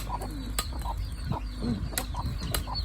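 Fat chickens clucking at a rural spot, several short bursts and calls scattered over steady background noise, fairly close and moderately loud, with no talk.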